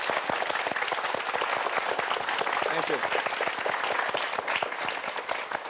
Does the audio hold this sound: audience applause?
yes